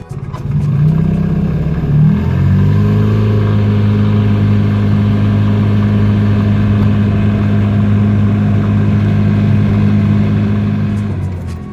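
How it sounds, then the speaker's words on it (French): Heard from inside, a 2020 Microcar Dué microcar pulls away and accelerates, its small engine droning with a shift in pitch early on, then holding a steady, loud hum before easing slightly at the end. "donc je vais faire une petite accélération comme d'habitude"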